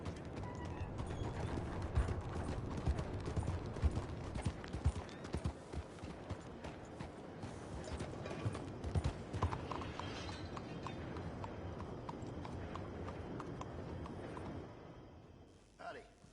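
Horse hooves clip-clopping in a stable yard, a steady run of hoof knocks mixed with mechanical clatter and ambient noise, continuing for most of the stretch before fading.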